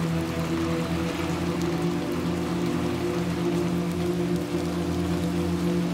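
Steady rain falls across the dark, oversized streets of the video game Little Nightmares II, a continuous dense patter with a low droning ambience underneath, filling the whole stretch without pause.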